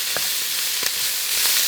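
Chopped onions and celery sizzling in a hot pan, giving a bright, steady frying hiss with a few soft clinks of stirring, close and continuous.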